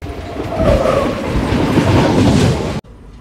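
Sabari Express passenger train running at speed past a canal, a loud, steady rumble with rattling wheels and carriage noise that cuts off abruptly near the end.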